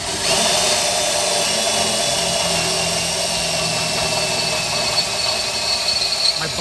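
A power drill whines steadily and loudly while boring holes into a metal bumper, holding a high-pitched drone with occasional squealing as the bit works through the steel.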